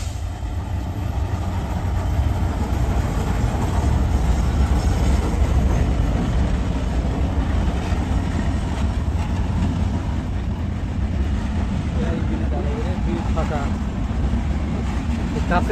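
Ekota Express train rolling into Santahar Junction in Bangladesh, a steady loud rumble of wheels and carriages with faint rhythmic clatter, people talking over it throughout.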